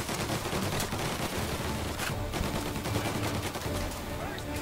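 A Tommy gun fires in Mafia Definitive Edition, loud sustained automatic bursts mixed with other gunfire throughout, dense and close, with a voice heard faintly amid the shooting.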